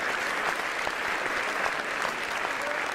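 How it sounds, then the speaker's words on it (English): A round of applause from a crowd: dense, steady clapping that holds at an even, fairly loud level throughout without breaks, with no voices standing out. "Round of applause."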